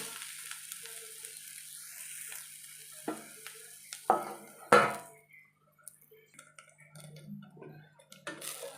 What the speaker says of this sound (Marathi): थोडस हलवून द्यायची ही अंडी